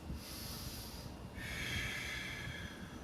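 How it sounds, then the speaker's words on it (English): Slow, deep breathing up close: a hissy inhale through the nose followed by a longer, airy exhale through the mouth, with no talking. "Inhale deep through your nose, out through your mouth."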